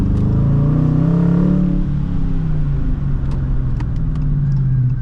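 A Dodge Challenger R/T with just under 400 horsepower, its engine holding a loud, steady low rumble from close by that swells slightly at first, heard from inside with the windows down and no talking.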